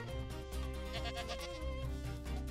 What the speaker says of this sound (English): All right, so we've spawned a goat here.